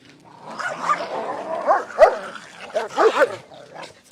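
A small dog barks and yips in short bursts, close by, with whiny edges between the barks.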